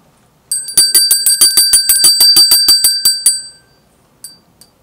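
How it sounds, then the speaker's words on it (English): A small bell rung rapidly about twenty times in an even, bright run to signal the start of the Angelus prayer, loud and close, then a couple of faint stray tings after it stops. "Let us begin first by ringing the bell to signal the start of this"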